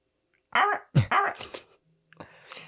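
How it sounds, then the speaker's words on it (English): A dog gives a few short barks and yelps up close, one sharp bark followed by a couple of rougher, trailing vocal bursts, then a brief quieter sound after a pause. "Here's my dog."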